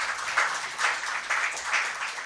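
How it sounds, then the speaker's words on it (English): Audience applause after a session, a moderate patter of clapping that swells in several regular waves, heard at a medium distance in a hall. "Can we give them a huge round of applause"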